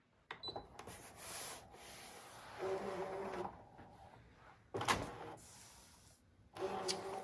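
A ScanNCut cutting machine draws in its mat, giving quiet mechanical whirring and clicking in short bursts separated by pauses, close by and without speech.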